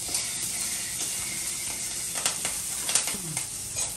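Green chillies frying in oil in a pan for a vegetarian ridge gourd curry, a steady soft sizzle and hiss running throughout with a few brief stirring clinks near the end.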